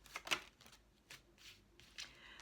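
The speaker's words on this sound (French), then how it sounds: "On va sortir 5 cartes pour les vierges qui regardent cette vidéo." Tarot cards are shuffled and drawn in a quiet room, soft papery riffles and flicks coming in short bursts with pauses between, close and faint, no talking.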